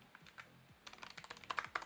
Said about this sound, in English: Just typing bundle.